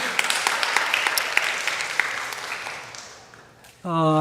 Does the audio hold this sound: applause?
yes